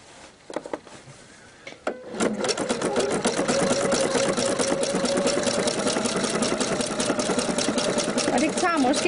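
A home sewing machine runs at a steady, even speed while stitching a decorative seam on an apron, its rapid mechanical whir continuous and close after a few brief handling knocks at the start.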